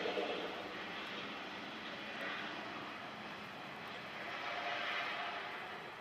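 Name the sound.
jet airplane taking off at Washington Dulles airport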